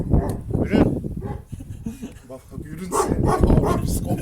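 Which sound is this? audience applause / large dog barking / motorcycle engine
large dog barking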